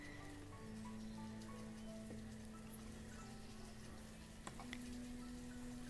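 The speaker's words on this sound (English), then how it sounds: "now it's raining again" Steady rain patters in the city-building game Banished, a soft, continuous hiss that stays low and even throughout with a couple of faint ticks near the end.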